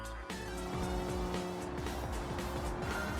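Race car engines rev and roar at the start of a three-lap race at Willow Springs International Speedway in a racing video game, a steady, loud engine drone with rising pitch sweeps as the cars accelerate.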